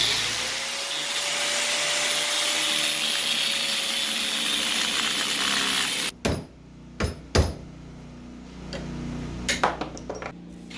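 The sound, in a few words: grinder cutting out seized sway bar links on car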